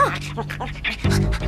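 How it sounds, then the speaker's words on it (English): A small dog pants in quick bursts with faint whimpers, close by, mixed with a low hum and some voice-like sounds from a cartoon scene. "Where did that mutt come from? That's Kiwi, my dog."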